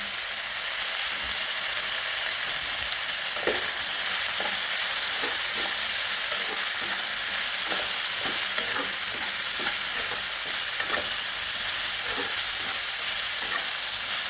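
Eggplant sautés in oil in a pan with a constant close sizzle, broken by a loose run of light scraping and stirring taps throughout.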